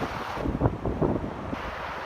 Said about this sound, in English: So I'm constantly watching these waves